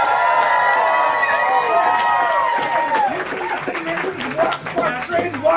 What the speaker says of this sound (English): everyone make some noise for Cody